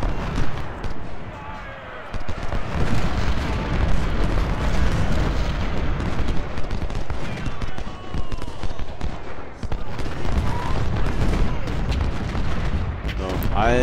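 Cannon fire rolls through the Gettysburg battle in the strategy game Ultimate General: Civil War, dense booms and crackling blasts layered almost continuously, loud and chaotic, while someone talks over it in German.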